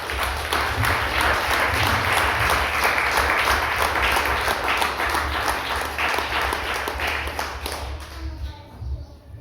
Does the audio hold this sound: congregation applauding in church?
yes